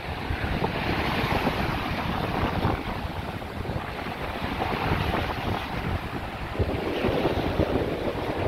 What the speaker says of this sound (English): you wouldn't be able to hear the waves or anything